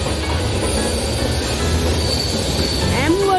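A Mumbai Central Railway local train running from CSMT to Kurla roars along with a loud, continuous rumble, and a sharp rising wheel squeal cuts through near the end.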